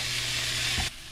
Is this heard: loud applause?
no